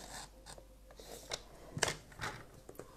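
Scissors cutting paper or card through to the end of the cut for a poinsettia box, a few crisp snips and slicing scrapes, close and quiet, alone without talk.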